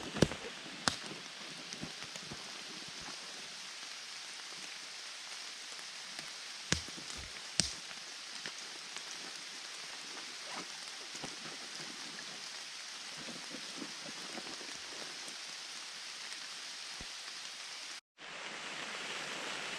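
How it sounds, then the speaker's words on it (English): Rain falls in the woods as a steady, even hiss with occasional small taps and clicks, continuing almost unchanged until it cuts off briefly near the end. "it's starting to rain"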